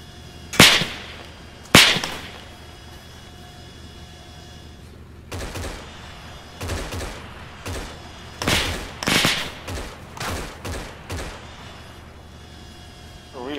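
Rifle fire in a military shooter game: two sharp, loud cracks early, then a quick irregular volley of closer shots with whip-like snaps, some overlapping, with voices talking around them.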